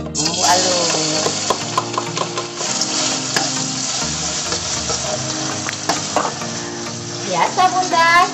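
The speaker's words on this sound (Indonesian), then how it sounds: "udah aku panasin minyaknya, terus pakai secukupnya aja ya. Langsung kita cemplungin bumbu halus." Ground spice paste sizzles loudly in hot oil in a pan, with a steady crackling fry and stirring scrapes throughout.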